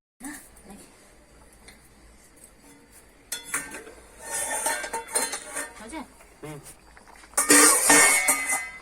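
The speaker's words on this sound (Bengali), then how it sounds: "তাই আমি ঢাকাটাও দিয়ে দিচ্ছি কারণ কিছুক্ষণ সেদ্ধ হতে হবে" A lid set on a pot of mung dal curry with peas, potato and tomato, heard as a few metallic clanks and clinks among kitchen clatter while someone talks throughout.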